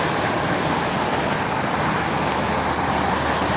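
Container truck passing on a toll road near a rest area, a steady loud broadband roar of passing traffic that holds throughout without a break.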